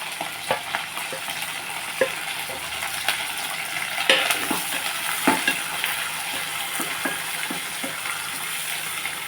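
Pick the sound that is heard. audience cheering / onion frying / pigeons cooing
onion frying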